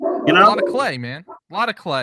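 A dog barks in a few sharp, loud bursts close to the microphone, overlapping with a man's speech.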